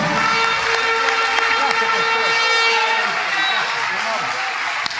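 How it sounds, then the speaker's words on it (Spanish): A church congregation applauds in a dense, steady wash of clapping that fills the whole stretch, with music and voices mixed underneath. "Dele un aplauso al Señor Jesucristo."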